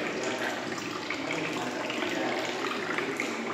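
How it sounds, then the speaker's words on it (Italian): Olive oil streams steadily from the tap of a 1960 olive press into zinc drums, a continuous liquid gushing and splashing with no pauses. "che poi la parte finale fuoriesce dal rubinetto e viene riempito nei"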